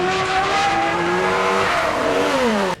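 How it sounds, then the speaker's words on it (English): Formula 1 race cars scream past on a track, their high engine notes sliding steadily downward as they speed away, loud and continuous with a faint squeal of tires. "zooming out to the cars shooting along the track"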